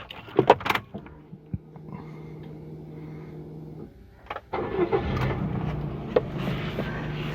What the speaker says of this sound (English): Now let me just turn on the car.